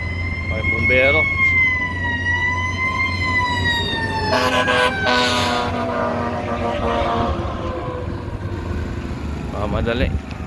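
A wailing fire truck siren rises and falls steadily in the distance in Howell, New Jersey, with traffic rumble and faint voices underneath.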